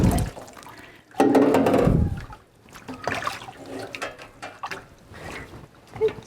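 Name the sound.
water running while bathing a puppy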